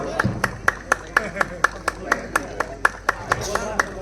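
Rhythmic, evenly spaced hand claps from an audience at a Ramlila committee award ceremony, about four sharp claps per second, steady and close throughout.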